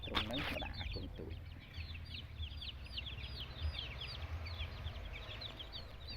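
Ten-day-old chicks give many soft, high cheeping peeps that overlap continuously against a low, rumbling background. A louder rustle or thump comes at the start.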